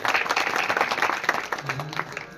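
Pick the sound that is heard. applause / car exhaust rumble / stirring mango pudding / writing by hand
applause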